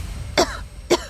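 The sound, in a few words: woman coughing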